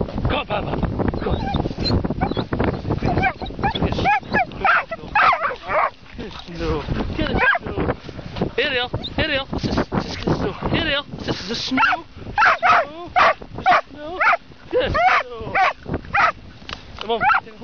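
Dogs barking, yipping and whimpering as they play together in snow, close and frequent, with excited human shouting and talk throughout.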